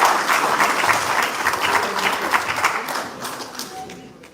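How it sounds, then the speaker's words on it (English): An audience at an Orange County emergency management meeting breaks into dense, moderately loud applause that swells early and then gradually tapers off. "I just want to give another round of applause and thanks."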